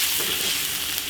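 Ginger, scallion and chili sauce hit hot oil in a wok and stir-fry with a loud, dense sizzle and crackle, close up and continuous, with no voices.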